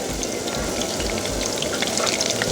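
Bread balls frying in oil over moderate heat, giving a steady, close crackling sizzle with dense popping throughout and no voices.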